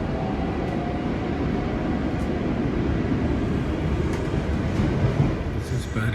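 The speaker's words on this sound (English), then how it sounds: "This is RER train, RER A." Inside an RER A commuter train riding through Paris, a continuous low rumble of wheels and carriage noise rolls on steadily, with faint rattles and brief higher clicks near the end.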